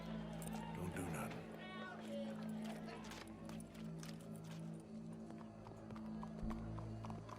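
Horse hooves clip-clop at a steady trot in the video game Red Dead Redemption 2, close and continuous under game music and voices.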